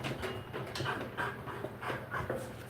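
An anxious dog sheltering under a desk pants steadily in quick, soft breaths, with faint whimpers mixed in, close and fairly quiet throughout.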